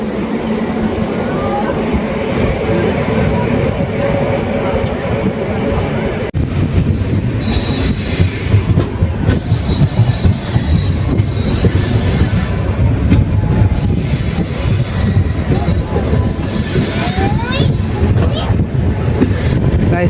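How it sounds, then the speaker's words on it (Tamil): Uday AC double decker express train pulling out of Tiruppattur after a brief stop, with loud rolling wheel noise, squealing and clatter building as it gets under way. "நம்ம உதய எக்ஸ்பிரஸ் பார்த்தீங்கன்னா திருப்பத்தூருக்கு ஒரு 30 செகண்ட் நின்று வண்டி கிளம்பிடுச்சுங்க"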